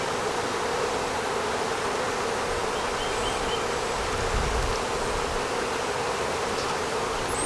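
Bees droning steadily around a swarm trap holding a frame of brood, with a virgin queen about, a continuous close, even hum with no voices over it.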